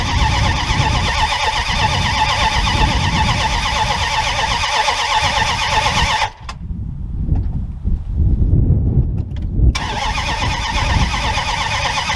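Starting attempt on a swapped engine in a Dodge Dakota pickup: a loud, steady mechanical whir with whine runs several seconds, cuts to a rougher low rumble, then the whine returns, close and continuous.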